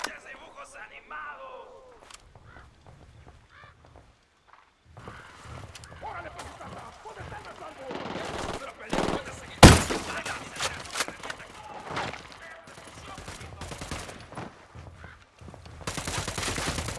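Close bursts of automatic rifle fire and single gunshots from a Ghost Recon Wildlands firefight come in irregular clusters, with one sharp loud shot near the middle. Shouted voices and radio chatter sit underneath.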